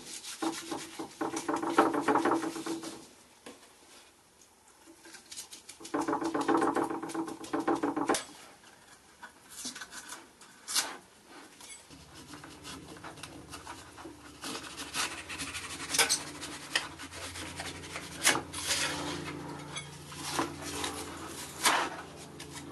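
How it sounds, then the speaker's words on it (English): Paper pattern residue is sanded and rubbed off the back of a wood carving of the Suffolk coat of arms, in bursts of scratchy abrasive strokes separated by pauses, with some clatter and handling noise later on. "use some mineral spirits or some white spirits to help you peel off the back and then just sand it or chisel it or whatever to get it all off"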